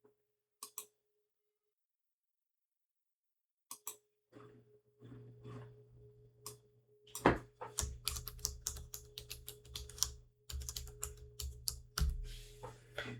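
Fingers type on a computer keyboard while processing experiment data, starting with a few isolated taps and then breaking into quick bursts of close keystrokes over a faint low hum. No speech is heard.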